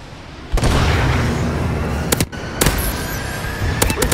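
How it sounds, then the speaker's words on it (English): Missile strike explosions in Call of Duty Advanced Warfare, heard as a loud sustained roar of blasts with several sharp booming bursts layered on top near the end. "Friendly missile strikes incoming."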